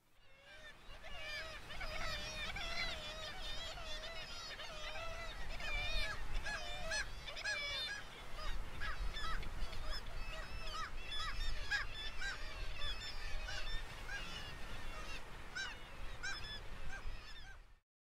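Kittiwakes in the Orkney Islands give a dense chorus of overlapping nasal, repeated calls, many birds crying at once at moderate distance, continuing without pause and without talk.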